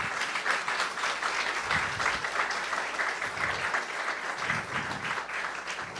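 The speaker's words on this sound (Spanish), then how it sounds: "les damos un fuerte aplauso" An audience applauds at a science talk presenting a yellow fever diagnostic kit, with dense, steady clapping that carries on without a break for about six seconds.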